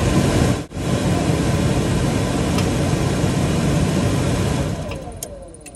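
An RV furnace with a newly replaced sail switch runs with a steady, loud broadband blower roar, a brief dip near the start, then softening toward the end with faint clicks.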